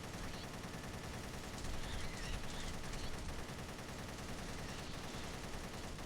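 Rachel fires guns in Ninja Gaiden Sigma 2, a dense continuous barrage of gunshots mixed with game effects, steady and fairly faint throughout.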